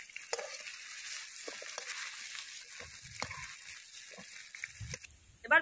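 Potato pieces fry in oil in a pan, a faint steady sizzle with a few soft clinks and stirring knocks near the end.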